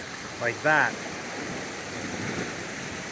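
Incoming tide washing onto a shoreline, a steady broad rush of water beneath a short burst of nearby talk.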